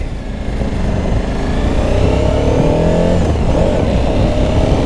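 A 2014 Suzuki V-Strom 1000 Adventure motorcycle engine runs steadily and loudly up close, with a deep continuous rumble and a slight rising rev toward the middle, no talking over it.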